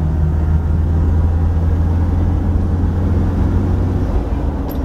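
Steady, loud engine drone from a 1967 21-window vehicle cruising in third gear, a constant low rumble with no breaks and no voices.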